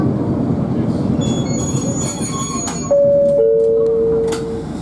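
Toyohashi Railway Azumada line tram rolling along its street track, steady rumbling wheel and motor noise with clear tonal squeals and whines partway through, heard from onboard.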